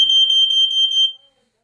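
Smoke detector alarm in a home sounds a loud, piercing high-pitched electronic tone, pulsing rapidly for about a second before cutting off into silence.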